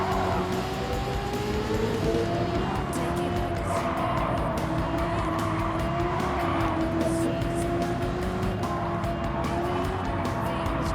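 A race car's tires squeal continuously in Gran Turismo 7, a sustained, wavering whine over the steady engine roar, loud and close throughout.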